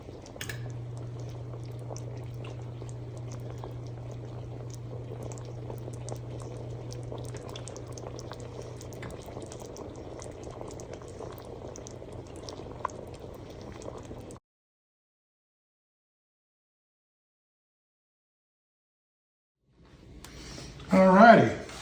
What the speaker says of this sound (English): We're gonna let these simmer.